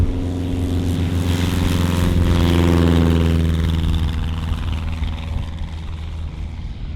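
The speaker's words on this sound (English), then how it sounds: "there's a plane taking off that we're gonna get mowed down by" A propeller plane takes off nearby on a windy day with a thunderstorm around, its engine droning loud and steady before slowly receding.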